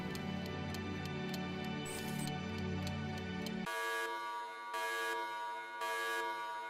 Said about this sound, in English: Your alarm rings.